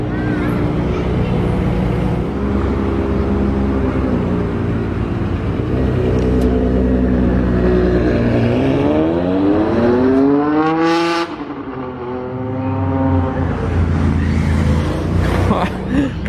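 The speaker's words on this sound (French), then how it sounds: "Une accélération de GTO" A Ferrari GTO accelerating hard with a loud rising engine howl that climbs steadily in pitch through the gears, then cuts off sharply and settles back to a rumble, heard close by.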